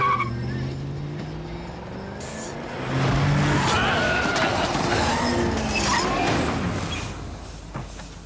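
A car with failed brakes skids, tires squealing loudly and swelling midway as it slides, a rough rushing roar that lingers to the end.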